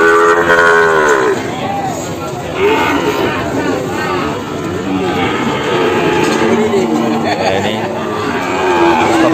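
Cattle low repeatedly at a busy livestock market in Kebumen, with long, loud moos over a steady crowd chatter and background bustle.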